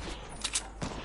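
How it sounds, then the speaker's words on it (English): Sniper rifle shots in Fortnite: a few sharp, distant-sounding cracks in quick succession, fairly faint, over steady game ambience. "Getting sniped from the mountain."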